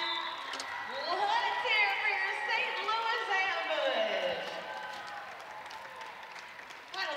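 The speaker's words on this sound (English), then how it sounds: "A St. Patrick's Day crowd that makes some noise as the ambush walk away with the W" Crowd at an indoor arena soccer game on St. Patrick's Day cheers and applauds as the home team wins, a steady roar of voices and clapping with shouts and whistles, under an announcer talking throughout.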